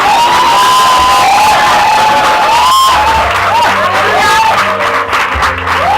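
A church congregation cheers and shouts with joy, a loud dense crowd roar with high whoops and ululating cries rising over it, steady throughout.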